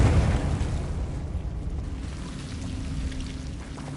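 A Confringo blasting spell in Hogwarts Legacy opens with a loud, close explosive burst, then trails off into a rumbling, roaring decay that fills the rest of the moment.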